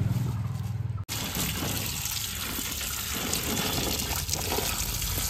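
Jujube berries are washed in water, giving a steady gush and splash of running water close to the mic, continuous after a brief opening moment with no talking.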